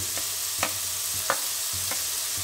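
Turmeric goes into moong dal with mixed vegetables, stirred with a spoon: four distinct scraping strokes against the pot over a low, steady sizzle, with no talking.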